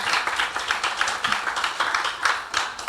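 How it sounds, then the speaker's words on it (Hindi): A congregation at a church ministries program in Sharjah claps briefly together, a short burst of quick, uneven hand claps, fairly close and moderately loud. "एक ही बार सबके लिए तालियां बजाएं"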